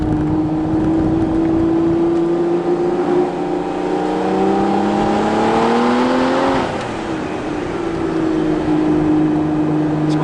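Aston Martin V12 Vantage S Roadster's V12 pulling hard uphill on a greasy wooded road, a loud steady engine roar rising in pitch through the gear, dipping briefly at a shift and settling again, with no talking.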